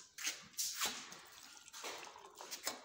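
Hot water splashes and trickles in short bursts, fairly faint and close, as it is poured into a calorimeter.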